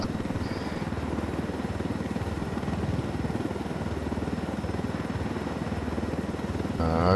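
A helicopter flies in the Ghost Recon Wildlands video game, its rotor chopping loud and steady from start to finish.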